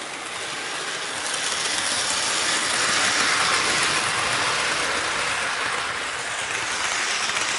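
A Hornby tender-driven A4 Silver Link model locomotive runs fast along its track, a steady rushing rumble with faint rail clatter that swells toward the middle and then eases slightly as it moves away.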